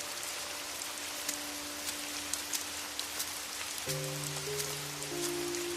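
Steady heavy rain falling at night, a dense continuous hiss with scattered drop impacts, with low sustained tones entering partway through under the downpour.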